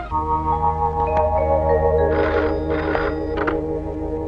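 An old-style telephone bell rings in short repeated bursts over a steady low hum, fairly close and loud.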